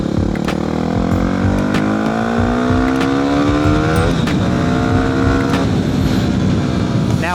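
A Yamaha WR250R dual-sport motorcycle with a full aftermarket exhaust revs loudly up close, its pitch climbing through steady acceleration, dipping briefly, then climbing again.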